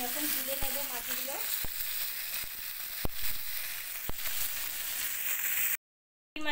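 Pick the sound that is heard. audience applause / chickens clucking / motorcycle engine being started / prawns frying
prawns frying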